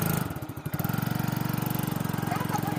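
A motorcycle engine idles nearby in cold weather with a fast, even, throbbing putter after a brief uneven start, and a voice speaks briefly over it.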